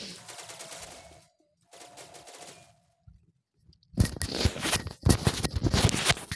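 Shooting video game with two brief tonal game sounds early on, a near-silent gap, then loud, rapid bursts of automatic gunfire crackling densely through the final seconds.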